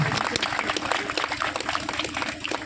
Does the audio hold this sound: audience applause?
yes